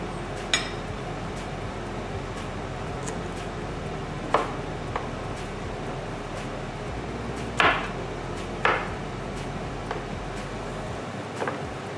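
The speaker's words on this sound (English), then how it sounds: "Or you can remove the tail, slice them into two" A kitchen knife halves fresh strawberries on a cutting board, giving a handful of sparse, crisp taps spaced seconds apart over a faint steady background hiss.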